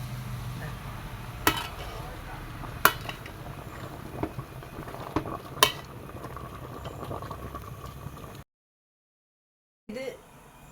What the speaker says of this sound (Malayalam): നല്ല വേവട്ടെ, തിളച്ച് വെന്തോട്ടെ